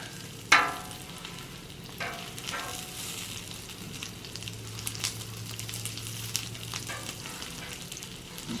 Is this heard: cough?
no